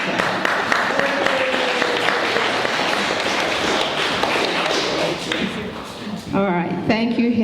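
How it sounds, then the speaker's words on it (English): Audience applause at a pastel society members' exhibition awards, a dense steady clatter of hands for several seconds before it fades and a voice starts talking. "clap, everybody."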